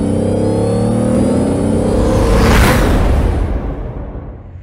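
A Pontiac GTO rolls into a shop, a loud steady engine and tire rumble that swells into a broad whoosh as it passes close by, then tapers off.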